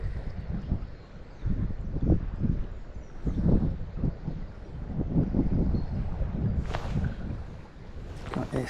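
Wind gusts buffet the microphone on a riverbank during barbel fishing, a rough low rumble swelling and fading in irregular bursts, fairly close and loud with no talk.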